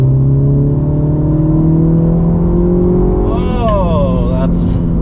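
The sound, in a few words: 2023 Mini Cooper S accelerating at full throttle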